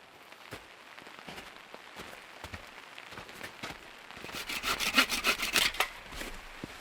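Spruce being sawn by hand outdoors in wet, rainy conditions, with soft rasping strokes building into louder, rapid rhythmic cuts toward the end.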